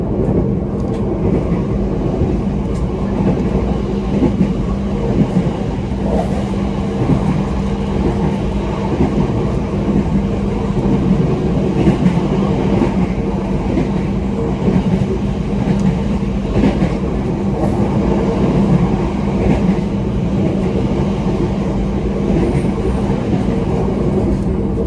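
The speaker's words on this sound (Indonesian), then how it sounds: "kereta api melaju beberapa puluh kilometer" A passenger train rolling along the rails between Pekalongan and Blora, a continuous loud rumble with faint rhythmic clatter heard from inside the carriage, steady throughout with no talk.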